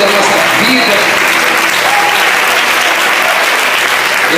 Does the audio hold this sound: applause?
yes